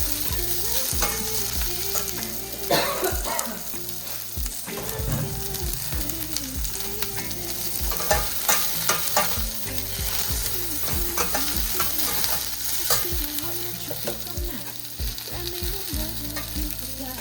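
Okra pieces are sauteed and tossed in a hot pan for a homestyle yogurt curry, giving a steady, close sizzle with repeated scraping and stirring strokes throughout and no talking.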